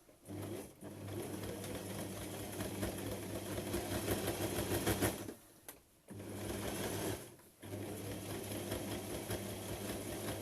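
A sewing machine sets a straight stitch along a bralette armband, its motor humming in a steady close whir with two short pauses before it resumes, and no talking.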